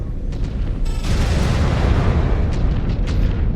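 A missile explosion in the mech combat game MechWarrior 5: Clans, a loud sustained rumbling boom that swells about a second in and rolls on with several sharper bursts layered on top.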